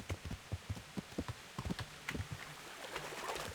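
Horse hooves clip-clop at a steady trotting rhythm in the medieval video game Kingdom Come: Deliverance, fairly close and moderately loud, with no talking over them and a soft rustling background.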